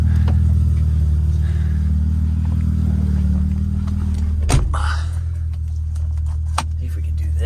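A JDM BMW E30 car idles with a steady low engine rumble, then a sharp thump. The engine keeps running with faint clicks and rattles, fairly close.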